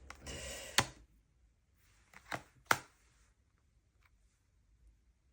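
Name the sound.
neighbour dismantling his garden shed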